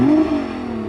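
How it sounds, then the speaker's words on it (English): A Nissan GT-R engine revving briefly, one sharp rising blip that quickly falls back toward a lower idle drone, close and loud with no talking. "Hey Jürgen, go on, rev up your car."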